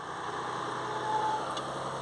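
A steady 3.0 TDV6 diesel engine drone from a Land Rover Discovery 5 with turbo overboost faults, held at a constant raised pitch by a pedal depressor, close and continuous with no talking.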